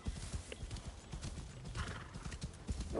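Horse hooves clip-clop in Assassin's Creed Shadows, a quick run of hollow thuds at fairly low volume with a brief whinny-like tone near the end.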